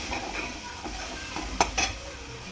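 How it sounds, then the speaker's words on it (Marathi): Malai kofta gravy with coriander powder cooking in a pan, a soft continuous sizzle with a few clinks and scrapes of a spoon against the pan. "आणि धना पावडर टाकू. ग्रेव्ही अशी चांगल्या प्रकारे बनवून घेऊ आपण."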